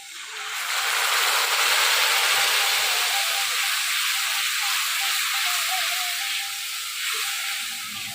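Spices and a little tomato-boiled water go into a curry pan, and a loud, steady hissing sizzle starts abruptly and then holds for several seconds.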